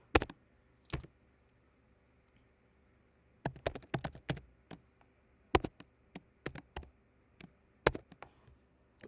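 Typing on a computer keyboard: scattered, quick key clicks in short irregular bursts with brief pauses, close and fairly quiet, with no voices.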